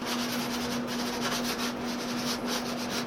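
Steady, continuous rasping friction of wood rubbing against a table saw's surface, close and fairly loud, with a constant low hum underneath throughout.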